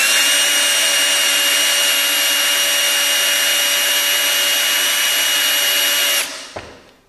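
A power drill drives a screw head into wood to countersink the hole, giving a loud, steady high whine with constant grinding for about six seconds before the motor stops abruptly and winds down.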